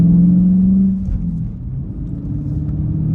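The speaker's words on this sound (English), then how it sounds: "You guys can hear, like a lot of cars, Honda Civic or louder cars like this, you should learn your own car and the sound." Low, steady engine rumble of a car being driven with a manual gearbox, close and continuous, easing slightly in load after the first second, no talk.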